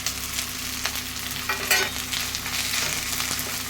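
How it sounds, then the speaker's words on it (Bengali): Ginger garlic paste frying with turmeric, cumin and chili powder in a pan for kachki fish chorchori, a dense continuous sizzle close by with occasional soft stirring scrapes, no voices. "আদা রসুন বাটাটা আমার একটু ভাজা ভাজা হয়ে গেছে, এর মধ্যে দেখুন আমি হলুদ গুঁড়ো, জিরে গুঁড়ো আর লঙ্কার গুঁড়ো দিচ্ছি।"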